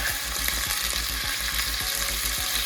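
Meat sizzling and frying in olive oil in a hot pot over medium-high heat for a meat sauce, a steady close crackle with faint stirring or shifting sounds and no talk.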